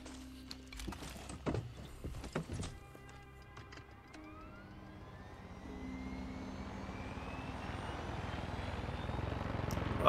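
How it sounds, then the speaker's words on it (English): A helicopter in the video game Far Cry 6 whirs with a steady rotor drone that builds louder over several seconds, after a few sharp bangs and clicks early on. "Good thing I got this helicopter."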